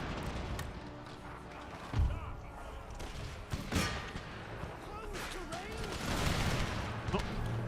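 Artillery and musket fire in Empire: Total War, a battle set around Gibraltar, with scattered booms and crackling volleys over a busy battlefield din, a voice talking partway through.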